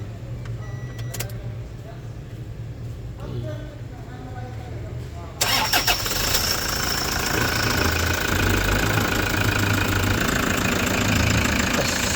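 A Toyota Hiace GL Grandia engine starting up after a transmission fluid change, cranking abruptly into a steady, loud idle with a knocking, clattering rumble that continues to the end.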